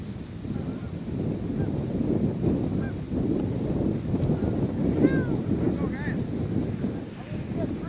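A lone white-fronted goose gives faint, distant calls over decoys, scattered through several seconds above a heavy rumble of wind buffeting the microphone.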